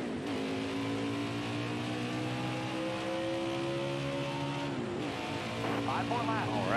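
A Watkins Glen Xfinity Series race car heard from inside holds a loud, steady, buzzing engine drone throughout, its pitch dipping and then climbing again near the end as the throttle opens hard.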